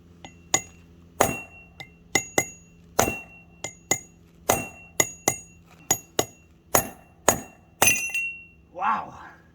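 Hammer striking the CV shaft of a Dodge Ram 1500 during replacement, about fifteen sharp ringing metallic blows in an uneven rhythm, loud and close, ending with a brief voice.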